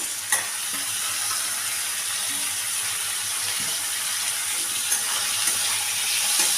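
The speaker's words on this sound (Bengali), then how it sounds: "আলুগুলোকে একটু আমি ভেজে নিচ্ছি" Cut potatoes fry in a pan for a potato and egg dish, a steady bright sizzle running close and continuous with a few soft stirring knocks and no voices.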